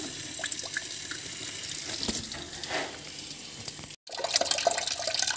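Water gushes steadily out of a Viessmann boiler that is not heating domestic hot water, a close, continuous rushing stream with one brief drop to silence before it resumes.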